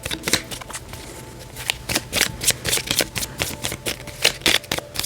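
A deck of tarot cards being shuffled gives rapid bursts of crisp riffling and flicking, repeated in quick irregular runs, close-up and alone.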